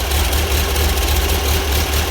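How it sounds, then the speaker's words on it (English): A motor built with heavy-duty valve springs, chromoly retainers and solid shaft rockers, fitted with a carburetor and fan housing, idles steadily and loudly with a deep, even rumble throughout, with no talking. "You can see the motor runs fine."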